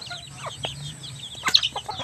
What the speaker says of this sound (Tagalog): Isa sa aking pang-apat na inahing manok.